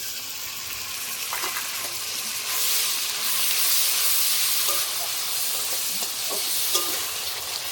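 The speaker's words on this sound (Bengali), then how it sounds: "এবার তেলের ওপর পেঁয়াজ বাটাটা দিয়ে দেবো।" Onion paste hits hot oil in a pan that has just fried tiger prawns with whole green chillies, letting out a loud, steady hissing sizzle with occasional stirring clinks nearby.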